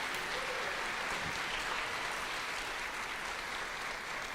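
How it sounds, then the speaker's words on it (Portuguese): A church congregation at a Sunday service applauds in a steady, dense wash of clapping that fills the room without pause from start to finish. "Você pode aplaudir aí a Deus"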